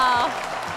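A live-stream studio audience applauds a guest host's entrance, a brief burst of clapping that starts loud and then trails into a softer, steady patter mixed with voices and cheering.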